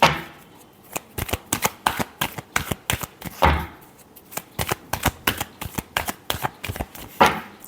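Tarot cards being shuffled by hand in repeated quick riffling bursts with short pauses, a crisp close flutter and slap of the deck, no talking.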